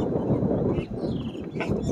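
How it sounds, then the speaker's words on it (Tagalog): Strong wind blows across an outdoor setting as a loud, continuous low buffeting roar that rises and dips, with a faint high whistle partway through. "Lakas ng hangin."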